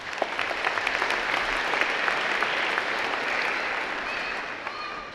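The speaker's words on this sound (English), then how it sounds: "Please give yourselves a round of applause" A large audience at a high school commencement ceremony applauds in a steady, dense wash of clapping that holds for several seconds, with faint voices and a few whistles inside it.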